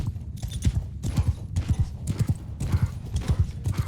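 Mounted horses gallop in a Mount & Blade 2: Bannerlord battle, a rapid rhythmic drumming of hoofbeats in repeated clusters, close and fairly loud, with a brief whinny hinted in the mix.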